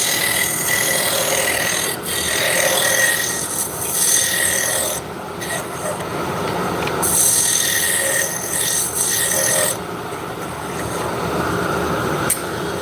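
A cutting tool scrapes and rasps continuously against hard maple spinning on a wood lathe as the diameter is brought down, a loud, gritty rubbing that dips and surges in pressure, with no talk.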